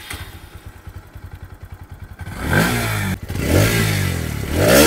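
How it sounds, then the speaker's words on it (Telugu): A 2025 Bajaj Pulsar NS160 motorcycle cranks on its electric self-starter in a rapid rhythmic chatter, then the engine catches and settles into a loud, close running note with a couple of throttle blips from the underbelly exhaust. "ఇప్పుడు మనం సెల్ఫ్ స్టార్ట్ చేద్దాం."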